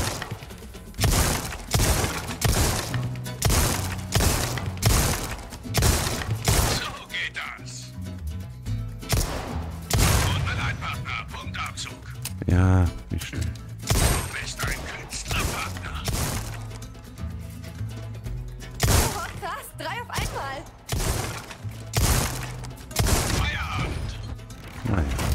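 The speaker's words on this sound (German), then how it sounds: "Auf die explodierende Flasche schießen oder." Rapid gunfire in the Resident Evil 4 Remake shooting gallery, with repeated sharp cracks, shattering and exploding bottles, and mechanical reload clatter in a dense, loud barrage under game sounds.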